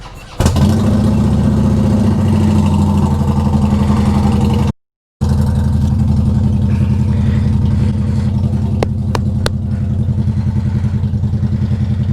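Motorcycle engine running at a steady idle close by, a loud continuous low rumble with a brief cut partway through, at a very slow motorcycle race.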